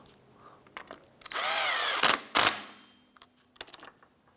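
Power tool drives in a bolt while a serpentine belt tensioner is fitted to a 1994-2004 Chevrolet S10: one fairly quiet whirring burst of about a second, followed by short tool blips and scattered clicks.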